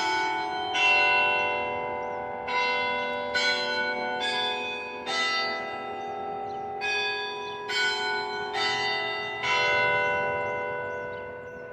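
The bells of Holy Ghost Catholic Church in Knoxville ring out in a slow, even series of about a dozen clear tolling strikes, each ringing on and overlapping the next, heard from outside with no talk.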